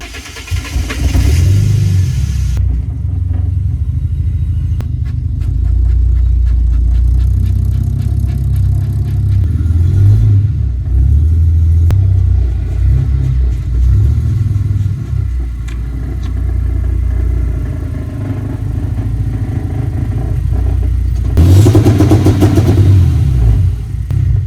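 A naturally aspirated Mercedes W203 engine cranks and fires with a squealing start, then settles into a loud, steady idle with a few revs, closing with another sharp squeal.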